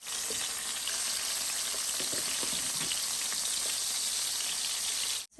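Fish frying in hot oil in a pan, a steady dense sizzle and crackle running continuously at close range, with no voices.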